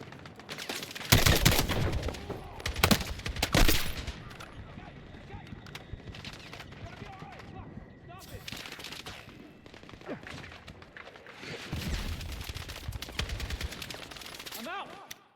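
Sustained gunfire and machine-gun bursts in a Battlefield 6 campaign combat mission, with loud clustered volleys early on, then a lull and renewed fire near the end, while shouted voices call out over the battle.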